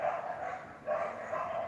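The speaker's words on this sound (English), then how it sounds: "I hate these dogs walking around." Dogs bark close by in a steady, continuous run of yelping calls that lasts the whole moment, with a brief dip midway before the barking picks up again at full strength.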